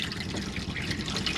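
Hot water running steadily from a motorhome tap in an Auto Trail Tracker EKS 2015, with the onboard water pump working; a continuous close splashing hiss, alone without talk.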